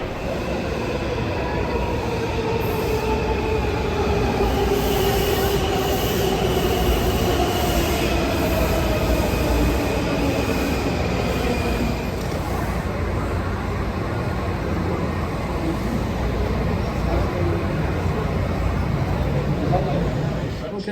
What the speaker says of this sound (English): That's a downtown train.